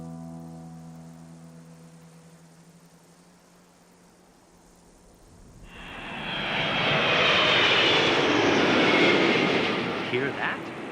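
An airplane flies overhead in the Fallout 76 video game, its engine growing from a faint distant hum into a loud broad roar that holds steady, with no talk.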